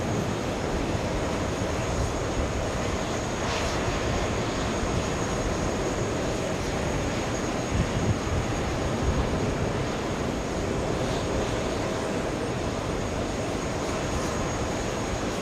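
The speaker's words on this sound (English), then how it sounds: "now that's the A220" A Delta Airbus A220 airliner bound for Dallas at JFK Airport produces a steady, unbroken jet engine roar heard from a distance on a hot day, without talk.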